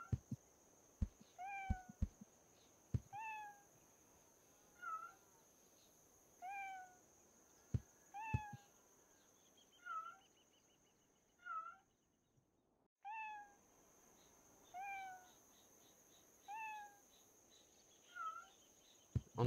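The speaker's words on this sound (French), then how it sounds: "On entend deux miaou différents." Repeated meows from cats, evenly spaced every second or two, fairly clear against a quiet background with a few sharp clicks.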